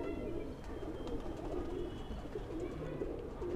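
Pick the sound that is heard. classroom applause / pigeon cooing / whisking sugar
pigeon cooing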